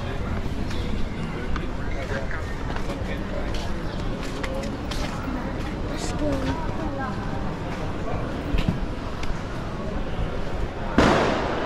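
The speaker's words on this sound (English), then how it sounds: "Fireworks still going off from Chinese New Year every so often. We'll have a massive barrage of bangs." Fireworks for Chinese New Year crackle and pop in the distance around a busy market in Kuala Lumpur, scattered bangs under crowd babble and nearby talk.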